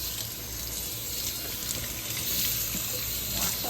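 Tap water runs continuously over fresh cilantro leaves in a sink, a steady close rushing splash with no talking.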